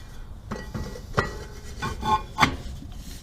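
Drum brake shoes drag lightly on a turning drum of a 1967 Chevy C10, giving soft, rhythmic scraping rubs that repeat every half second or so, close by, with no voices.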